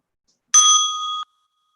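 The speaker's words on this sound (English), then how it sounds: "as you listen to the bell" A single bright meditation bell tone strikes once and rings clearly for under a second before stopping abruptly, alone in silence.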